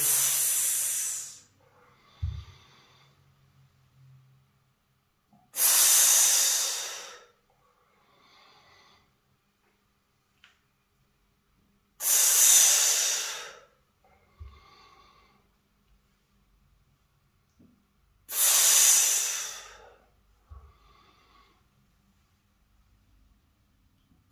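During abdominal exercises for back pain, a person takes four loud, close, hissing breaths spaced several seconds apart, each followed by quieter pushed exhalations and soft movement noise.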